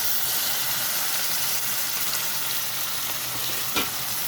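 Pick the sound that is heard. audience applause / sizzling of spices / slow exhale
sizzling of spices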